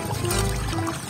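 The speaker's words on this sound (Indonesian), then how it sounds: "Kita siram-siram dulu." Water poured over a dirty toy sand truck to rinse it, a short, close splashing pour with a gurgling low rush.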